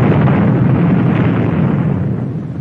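A bomb explosion sound effect in a 1968 political campaign ad booms loud and close, a single deep rumbling blast that rolls on and slowly fades.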